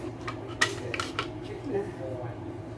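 Kitchen handling of a Thermomix bowl being washed and taken apart: a few sharp clinks and clatters of metal and plastic parts, scattered over a low background hum.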